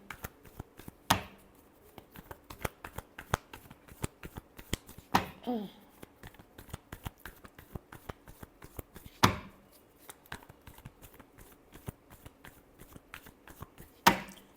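Tarot cards being shuffled by hand in a quiet room, a steady run of soft crisp riffles and taps with a few sharper snaps standing out, close and fairly faint with no talking.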